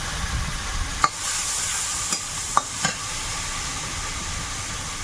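Large river bele fish, seasoned with salt and turmeric, sizzles in hot oil with a steady frying hiss, broken by a few sharp clinks of a spatula stirring the pan.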